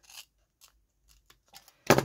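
Scissors snip through paper for a lantern in a few sparse, dry clicks, ending in one louder close cut, with quiet pauses between and no talking.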